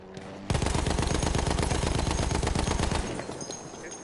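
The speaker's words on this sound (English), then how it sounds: "Running suppressive fire." A sustained burst of rapid automatic gunfire lays down suppressive fire in the World War I shooter Battlefield 1, loud and dense for about two and a half seconds before trailing off.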